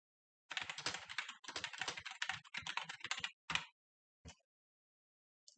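Fingers type on a computer keyboard up close, with quick runs of keystrokes followed by a few isolated taps and then quiet.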